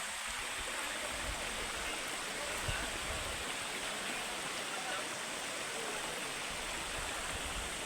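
A flooded, muddy river flows with steady rushing water at an even level, a broad, constant roar with no pauses.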